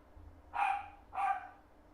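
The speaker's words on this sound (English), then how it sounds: "If you're wondering why the dogs are barking, it's because every neighbor in the neighborhood's dogs are barking." Two distant barks from neighborhood dogs outside, closely spaced and moderately faint over a quiet background.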